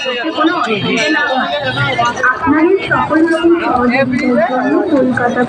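Dense crowd chatter and overlapping voices of devotees at Bhootnath temple in Kolkata during the Shravan Monday water offering, a steady close hubbub with individual voices rising out of the babble.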